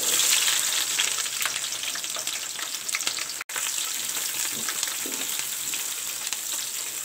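Sliced onions and green chillies frying in a pan for chicken pulao, a steady, close crackling sizzle with occasional stirring scrapes and a brief dropout midway.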